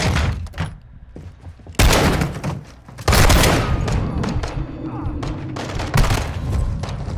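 Gunfire from the video game Modern Warfare: bursts of loud shots and booms come in uneven clusters, with quieter gaps between, while voices talk in the scene.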